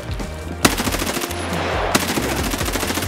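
Automatic gunfire in Escape From Tarkov during a heavy firefight. A dense, loud stream of rapid shots runs for about three seconds, with two sharper louder bangs standing out inside the burst.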